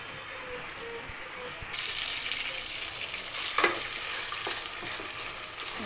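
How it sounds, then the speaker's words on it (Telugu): Mutton frying in a pan while its water cooks off: a steady close sizzle with stirring scrapes, growing louder and more hissing partway through. "కొంచెం వాటర్ ఉంటే ఇంకిపోయే వరకు ఫ్రై చేసుకోవాలి"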